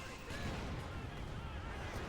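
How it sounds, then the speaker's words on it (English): Dense, continuous rumble of a Panzerwerfer rocket barrage in Company of Heroes 2, a muffled wash of overlapping blasts and booms with no clear gaps between impacts. "One hell of a strike there by Zen Prime's Panzerwerfer"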